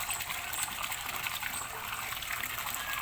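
Rainwater runs freely during the rainy season, a continuous rushing trickle at moderate volume with no voices over it.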